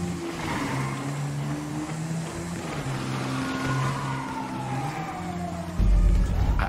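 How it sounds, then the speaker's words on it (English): A motorcycle chase with police cars in the video game GTA V: a continuous roaring engine drone with shifting pitch, and sweeping sirens rising and falling behind it. A heavier rumble closes the chase, with no talk. "I love this motorcycle chase with the cops."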